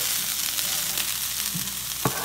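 Vegetable fried rice with egg being stirred in a hot pan, giving a loud, steady sizzle throughout, with a few soft scrapes and stirring bumps and no talk.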